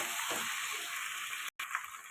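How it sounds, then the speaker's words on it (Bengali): Fried potato and pointed gourd sautéed in a pan with turmeric, giving a steady, close sizzle and frying hiss that runs throughout, with a short dropout midway. "ভেজে রাখা আলু পটল দিয়ে দেবো। এটা ভালো করে কষাতে থাকবে।"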